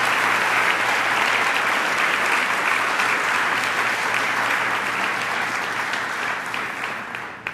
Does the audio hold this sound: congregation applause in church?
yes